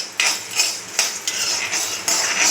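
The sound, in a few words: dry-roasting coriander seeds in a pan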